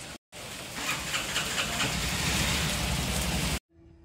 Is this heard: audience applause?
no